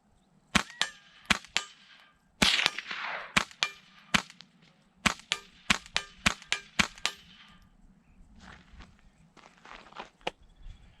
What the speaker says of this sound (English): Energetic Armaments 1022 suppressed.